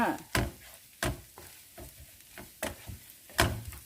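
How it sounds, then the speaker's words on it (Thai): Shrimp stir-frying in a pan over low heat, with a spatula scraping and tossing in several distinct bursts between soft, steady sizzling. "ใช้ไฟอ่อนแล้วนะคะ ทุกคน ผัดให้หอมเลยค่ะ"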